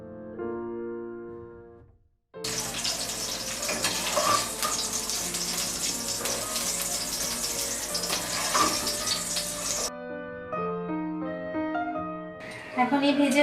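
Tomato and capsicum frying lightly in oil: a steady, close hiss and crackle of sizzling fills the middle stretch, with soft music playing before and after it and faintly beneath.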